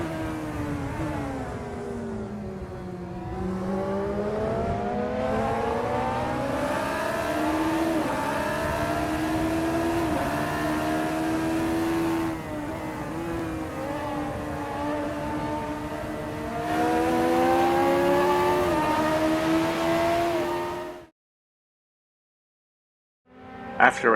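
Race cars in a sim racing video game, several engines droning and rising in pitch as they accelerate through gears, sustained and fairly loud before cutting to near silence at the end.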